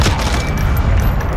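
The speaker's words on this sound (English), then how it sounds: "Grenade out." A grenade blast in a video-game firefight, a loud, close boom with a heavy low rumble that rolls and sustains through the whole moment, with no talking over it.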